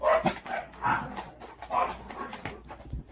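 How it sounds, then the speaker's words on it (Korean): A dog barks repeatedly outdoors, a series of medium-loud, irregular barks mixed with whimpers and yips, somewhat distant, with no talk over it. "바깥에서 계속 짖습니다"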